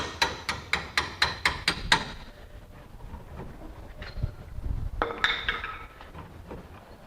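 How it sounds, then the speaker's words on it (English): Hammer tapping a rear shock bolt out of a 2004 Nissan Titan: eight sharp, evenly spaced metallic strikes in quick succession, close and loud, followed by quieter shop clatter and a few more light clinks. "hitting it with a hammer is not going to damage our threads."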